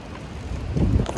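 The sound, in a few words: wind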